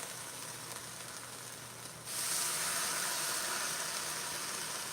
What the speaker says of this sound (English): We're gonna get a nice little sizzle as soon as we put it on, because our skillet is nice and hot.